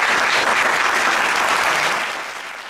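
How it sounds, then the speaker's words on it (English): A studio audience gives Deion Sanders a round of applause on a comedy talk show, with loud, close, dense clapping that holds steady and then tapers off near the end. "give him a round of applause"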